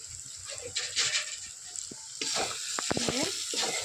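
Chicken and potatoes with salt and turmeric are stirred in a village-style pan, giving a soft sizzle with scraping and clinking stir strokes, while a voice briefly sounds near the end.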